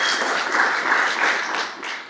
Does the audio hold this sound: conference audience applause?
yes